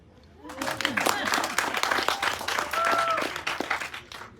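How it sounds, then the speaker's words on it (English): Audience at a launch event claps after partners are acknowledged, a rising round of applause with scattered sharp claps, voices and some cheering mixed in. "Why not clapping?"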